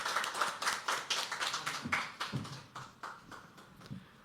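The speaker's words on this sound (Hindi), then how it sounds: "जब तक अभिषेक आ नहीं रहे हम तालियां बजा सकते हैं।" Sparse clapping from a poetry open mic crowd while the next performer heads to the stage, uneven claps thinning out, with faint murmuring underneath.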